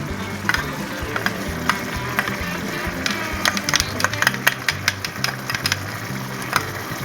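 Minced garlic dropped into a gumbo pot with sausage and chicken, giving a steady frying sizzle with scattered crackles and stirring scrapes, close and moderately loud, with faint speech.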